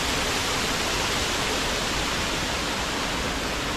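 Areekkal waterfall in Kannur pours in a steady, dense roar of falling water, loud and close, with no voices over it.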